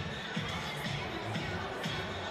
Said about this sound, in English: Good crowd at Geelong Arena.